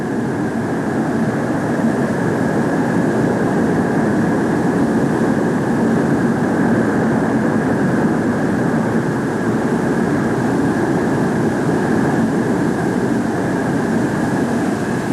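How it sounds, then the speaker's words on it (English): A Convair F-102 jet taxis at Edwards Air Force Base after its first day of flight testing, giving a loud, unbroken roar with a steady high whine that never lets up. "As the F-102 taxis back to the waiting crew, winding up its first day of flight testing"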